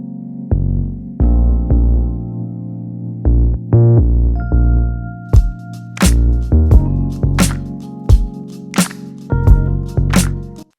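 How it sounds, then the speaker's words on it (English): A Rhodes electric piano plays mellow, bell-like chords in a hip-hop beat, layered over punchy kick and snare hits. The sound is loud and rhythmic, with some notes held and others cut short, and there is no talking. "The Rhodes, I did not do anything to."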